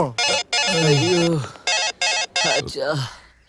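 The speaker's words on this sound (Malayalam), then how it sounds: "അവന്റെ ഫോൺ അടിച്ചോണ്ടിരിക്കണ്ട, പക്ഷെ എടുക്കുന്നില്ല" A mobile phone rings unanswered in a Malayalam action film scene, its melodic ringtone sounding in loud, close, repeated bursts with short gaps between them.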